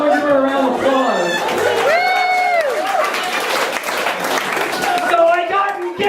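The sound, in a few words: audience applause for a performer leaving the stage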